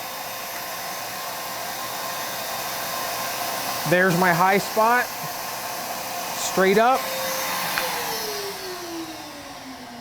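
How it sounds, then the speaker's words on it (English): A shop vacuum runs steadily through the whole stretch while a natural-edge three-foot wooden bowl is turned on a lathe, a constant broadband whine with someone talking briefly over it midway. "Turn the vacuum off."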